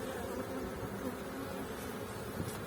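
A dense, steady buzzing of many honeybees close by in an open hive during a spring inspection, continuous and even throughout with no voices.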